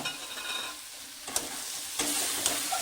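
A spoon stirs a sticky papaya laddu mixture with sugar, yellow food colouring and cardamom powder in a hot pan, giving close scraping strokes over a soft sizzle for a few seconds.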